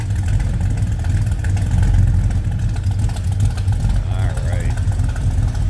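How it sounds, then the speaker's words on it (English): A 1964 Chevrolet El Camino with a 454 big-block V8 idles nearby in a steady, deep low rumble that holds even and unbroken throughout. "listen to this big block rumble a little bit here"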